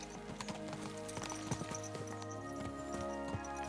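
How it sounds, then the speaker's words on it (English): Horses galloping in the medieval video game Kingdom Come: Deliverance II, their hoofbeats a steady, continuous clip-clop under a thick layer of tonal game music, with no clear speech in the clip. "Let's really spur these horses on, eh?"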